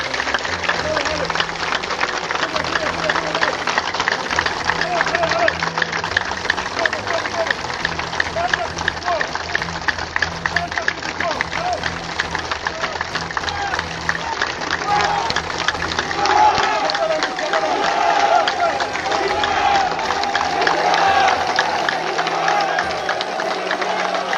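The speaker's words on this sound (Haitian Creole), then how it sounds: "Applaudissements." Dense crowd applause and cheering at a rally, continuous and loud throughout, rapid clapping blended with shouting voices and babble with no pause.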